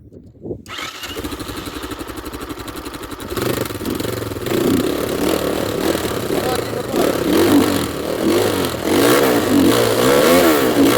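A Kovi MAX300 motorcycle starts, idles with a rough clatter, then revs repeatedly, its exhaust roaring loud and close.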